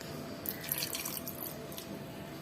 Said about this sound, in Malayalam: അപ്പോൾ നമുക്ക് പാലൊഴിക്കാം.